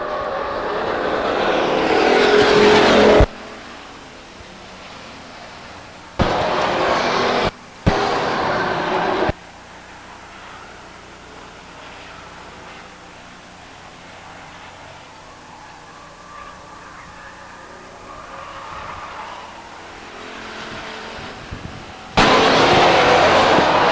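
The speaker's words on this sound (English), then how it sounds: "Romp and Rich and Brian Vosberg drag race into turn 3" Race cars roar around Stockton 99 Speedway in 2002: loud engine blasts in several short bursts are broken by abrupt cuts to a much quieter, distant track hum, before a loud pass returns at the end.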